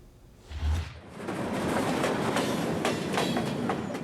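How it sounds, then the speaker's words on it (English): A train rolls steadily past with a continuous rumble and a regular clickety-clack of wheels over rail joints, fairly close, with no voices. "That sound, the clickety-clack where the track joints meet"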